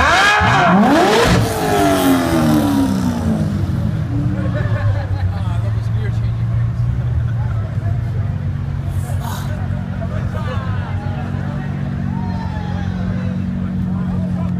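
A Corvette and a Ferrari Berlinetta at the Gold Rush Rally 2014 rev hard, with a loud, close engine roar and surge at the start that settles into a sustained rumble. Crowd chatter and voices carry on underneath.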